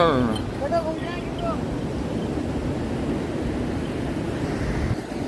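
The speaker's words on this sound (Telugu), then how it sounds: "అలలు దాడి అయితే ఎక్కువ ఉంది, చాలా ఇక్కడ వాటర్ ఫ్లో ఉంది" Steady roar of strong surf at Golden Beach, Puri, with wind buffeting the microphone, a voice speaking briefly at the start over the constant wash of water.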